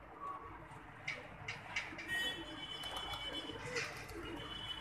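Pigeons settle onto a rooftop net and give soft, faint coos with a light flutter of wings, set against quiet outdoor background noise.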